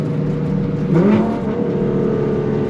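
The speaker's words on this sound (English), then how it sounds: "Some nice upshifts there." A Nissan GT-R engine heard close from inside the car, a steady loud drone with a brief rise and shift in pitch midway as the paddle-shifted transmission upshifts.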